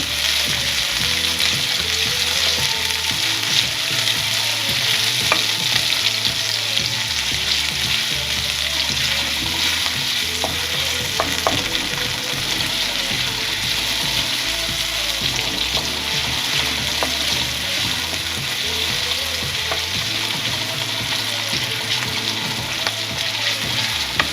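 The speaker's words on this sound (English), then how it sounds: "Okay, the oil is hot. I'm adding onion. And then I'll roast it a bit till it turns golden brown." Onion fries in hot oil for a chicken curry, giving a loud, close, unbroken sizzle with bubbling texture that holds steady the whole way through and has no talk over it.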